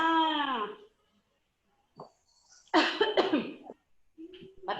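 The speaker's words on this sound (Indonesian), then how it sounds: "batuk dulu." A single cough, close and fairly loud, from a person in an online class recording, followed by quiet and then short bursts of voice.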